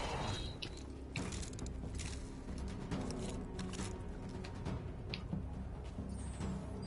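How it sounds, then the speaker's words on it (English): A revolver being slowly reloaded in Destiny, a string of small metallic clicks and ratcheting mechanism sounds, close and moderately quiet, spread across several seconds. "So the reload's really slow."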